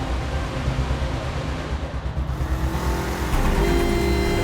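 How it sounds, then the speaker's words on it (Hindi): A car drives fast, its engine roaring steadily up close and rising in pitch as it accelerates near the end. "ड्राइवर, गाड़ी थोड़ा और तेज चलाओ।"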